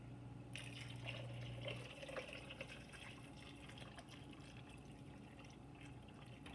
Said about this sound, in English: I'm gonna pour enough water in so that it covers everything in the pot